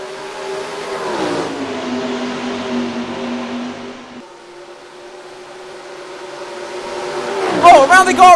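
Several stock cars in NASCAR Racing 2003 take the green flag at Pocono, engines droning loud and near with steady rising harmonics, dipping briefly before climbing again as revs build, with a sharper whine near the end.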